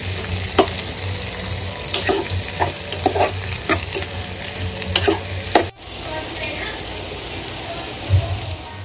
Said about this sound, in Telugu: ఆనియన్స్ అంతా మగ్గేంత వరకు లో ఫ్లేమ్‌లోని మూత పెట్టి మగ్గిస్తే చక్కగా ఆనియన్స్ మగ్గిపోతాయి